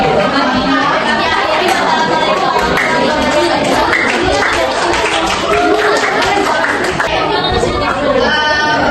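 A school class applauds during a practice-teaching lesson, mixed with lively student chatter and voices, loud and close throughout.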